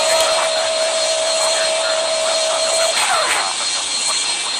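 BAE146 jet airliner engines on takeoff in the game Airline Commander, a loud steady broadband roar with a high whine that fades near the end, continuous and alone without talk.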